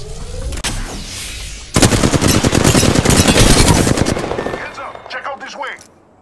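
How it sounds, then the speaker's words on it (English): Loud, rapid bursts of automatic gunfire in Apex Legends, a dense rattling stream of shots after a short pause, tapering into softer effects and background game noise. "Opening fire on the enemy."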